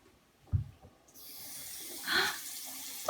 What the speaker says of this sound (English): Uh-oh, I hear something dripping.